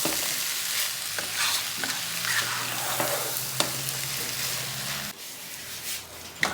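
Fried beans with sweet corn stirred in a pot, a steady sizzle under repeated scraping and clacking of a spoon against the pot, close and continuous with a few sharper knocks.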